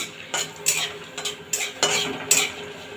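Whole dried chillies, bay leaf and whole garam masala tempering in hot oil, heard as a soft sizzle under repeated scraping and stirring clinks of a spoon against a metal pan, close and without speech.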